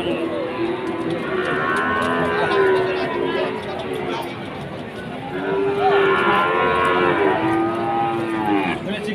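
Several cattle moo repeatedly in long, drawn-out calls, loud and close, amid a busy background of crowd chatter at a cattle market.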